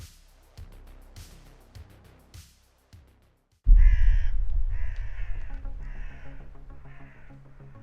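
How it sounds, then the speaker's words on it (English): A supernatural, skull-headed crow caws loudly in a sound effect, several harsh rasping calls over a booming low rumble after a quieter stretch of scattered clicks and thumps. "out of thin air, a supernatural, skull-headed crow manifests"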